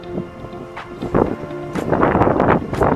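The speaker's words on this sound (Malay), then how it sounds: "Angin kuat lah." Strong wind buffets the microphone on a hilltop lookout in the Vietnamese mountains, loud rumbling gusts that build and grow heavier toward the end, with no talk.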